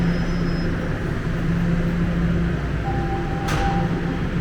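A Toronto subway train idles at Yorkville station, a loud steady rumbling hum with tonal whines and a brief hiss midway, close and continuous.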